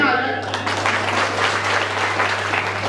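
An audience claps warmly at an Awadhi poetry recital. A voice is briefly heard at the start, then full, steady applause continues to the end.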